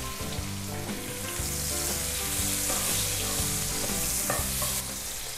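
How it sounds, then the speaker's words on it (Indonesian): Onions sautéing in melted margarine sizzle loudly and continuously while a spoon scrapes and stirs the pan, leaving a strong low rumble beneath the frying hiss. "Ini saya tumis sampai benar-benar harum dan layu"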